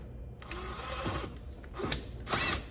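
A power drill drives a self-tapping sheet metal screw through plastic trim while fitting bigger wheels and tires on a 2019 Mercedes Sprinter VS30 van, with several short close whirring bursts and gaps between them.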